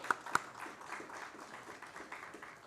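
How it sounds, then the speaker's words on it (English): Sparse audience clapping at a fintech and digital marketing panel event: two sharp claps up front, then soft, scattered clapping and murmur that stays faint and distant. "Can we have a round of applause to welcome him on the stage?"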